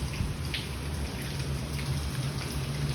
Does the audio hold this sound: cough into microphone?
no